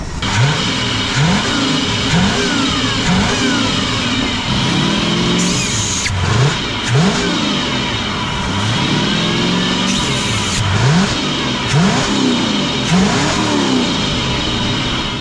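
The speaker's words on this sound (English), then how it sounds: "So I'm gonna rev it up, and there'll be plenty of junk coming out." A 1969 Thunderbird tri-hull boat engine revs up and down in repeated surges, loud and close, with a steady rough running note between the rising and falling pulls.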